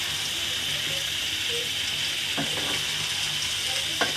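Pieces of mutton go into a pan of browned onions frying in oil, a steady loud sizzle with brief stirring clatters near the end.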